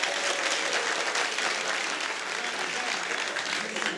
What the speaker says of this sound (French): Applaudissez pour vous vraiment